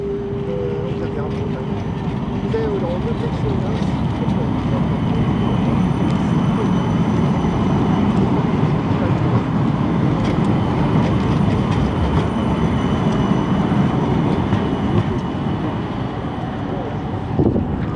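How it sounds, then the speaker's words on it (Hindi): An Oslo tram rolls through the middle of a street, a loud continuous rumble and rattle of wheels on rails with wind buffeting the microphone throughout. "ट्राम जो है वो इधर बीचों बीच गुजरती है"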